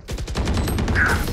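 Rapid automatic gunfire in the shooter game Valorant on the map Haven, a fast even burst of close, loud shots rattling nonstop for over a second.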